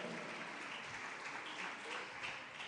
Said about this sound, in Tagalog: Palakpakan po natin ang ating mahal na Panginoon.